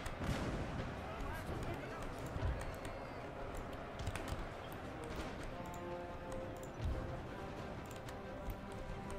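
Artillery guns firing on a Napoleonic battlefield in Napoleon Total War: scattered muffled booms and cracks over a constant battle din of clatter and distant noise, with talk running throughout.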